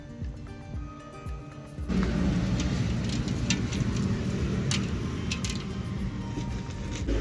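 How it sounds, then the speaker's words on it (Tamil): Oil for a 10-kilo pot of beef biryani sizzles and crackles as a steady hiss that swells after a moment and continues evenly. "10 கிலோ பீஃப் பிரியாணிக்கு 2 லிட்டர் எண்ணெய் ஊற்றுறாங்க"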